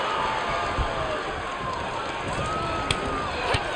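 A wrestling arena crowd in the video game WWE 2K22 roars as a dense, steady wash of cheering noise, loud and continuous, with a few brief sharper pops near the end.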